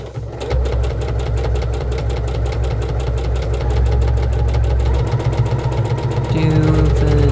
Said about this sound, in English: we're just going to sew right down the center of here